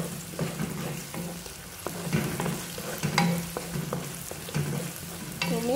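Spice paste with salt and palm sugar sautéing in a pan, steady sizzling frying with repeated scraping and knocking of a spatula stirring, close and continuous, no talk.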